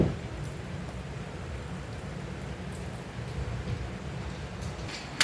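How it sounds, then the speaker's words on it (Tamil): Heavy rain pours down at night during a thunderstorm, a dense, steady hiss of falling water with no talk over it. "செம்ம மழை பெய்யுது."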